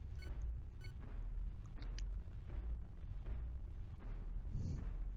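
A spaceship is blown apart in a space combat game, a dense low rumbling roar of explosions with scattered sharper crackles and clicks over a steady heavy boom bed.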